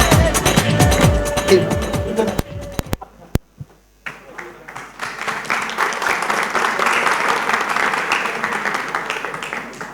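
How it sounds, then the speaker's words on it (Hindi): At a TV show press conference, loud sustained audience applause builds after a brief pause, many hands clapping densely. Voices and other sounds come before it. "जोरदार तालियां"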